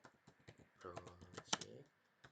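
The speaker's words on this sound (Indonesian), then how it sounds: "kita ketik composer create" Quick computer keyboard typing as a Laravel command is entered, a run of close, light key clicks heard under a voice speaking Indonesian.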